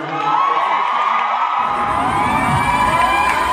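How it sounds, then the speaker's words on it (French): The crowd at the Miss Afrique Montréal 2017 pageant bursts into loud, sustained applause mixed with cheers and whoops. The clapping swells in after a brief musical lead-in and stays dense to the end. "On applaudit très très fort."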